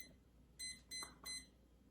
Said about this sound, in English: It's flashing and making a beeping noise.